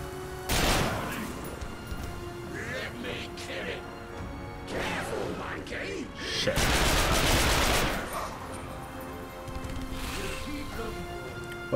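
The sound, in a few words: gunfire from Striker shotgun in video game The Darkness 2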